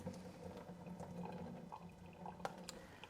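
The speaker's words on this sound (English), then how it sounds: "So let's go ahead and take the noodles and we'll dump the water out." Water drains and pours out of a pot of cooked ramen noodles, a faint trickling and dripping with a few small splashes and clinks, heard alone in a kitchen.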